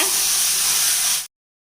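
Chicken pieces added to fried onions in a curry pan sizzle and hiss steadily while being stirred, a loud, even broadband frying noise that cuts off abruptly after about a second.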